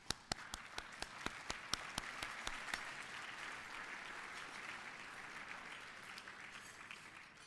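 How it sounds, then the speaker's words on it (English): An audience at a Nevada Medal award ceremony applauds: a few crisp, distinct claps open the sound, then it swells into a dense, even wash of crowd clapping that carries on faintly and steadily to the end. "And that one gets a clap."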